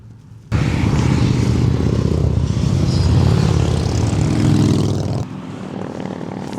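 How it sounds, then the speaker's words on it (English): Loud motorbike engines roar past close by on a road in Kananaskis on a rainy day, a sustained rumbling surge that fades as the bikes move away. "It looks like there's some cool motorbikes coming through actually"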